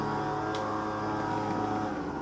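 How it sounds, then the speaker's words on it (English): A lawn mower running outside, a steady buzzing engine drone with a rich, even tone that holds throughout, fairly loud and without speech. "Excuse the noise out there mowing the lawn."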